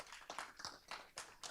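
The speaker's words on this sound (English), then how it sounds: "you want a little round of applause for your parents for getting you all here" Scattered hand claps from a small audience at an invention competition finals event, a handful of distinct sharp claps spaced irregularly, faint and brief.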